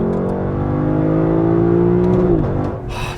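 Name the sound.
Lexus LC500 V8 engine revving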